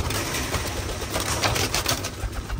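Pigeons coo softly amid a busy, noisy background, with scattered light fluttering and faint clicks across the short stretch.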